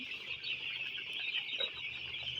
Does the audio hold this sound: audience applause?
no